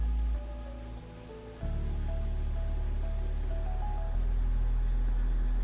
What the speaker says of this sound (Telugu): చాలా బాగా జలపాతం అనేది ఉంటుంది ఇక్కడ